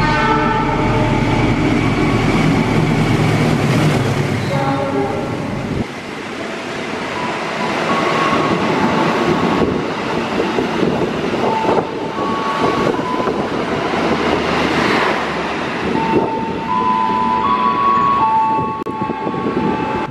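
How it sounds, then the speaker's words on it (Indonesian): A train horn sounds, then a train rumbles loudly through a station on track 2 without stopping, with rolling wheel clatter, and a couple more horn blasts ring out. "dari arah barat kereta api melintas langsung hanya di jalur 2"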